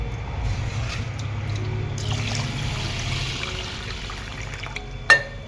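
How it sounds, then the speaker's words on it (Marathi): Water poured onto washed rice in a bowl for soaking, a steady near trickle and splash running for several seconds, ending with a brief sharp clink. "त्याच्यात आता आपण पाणी घालून घेऊया."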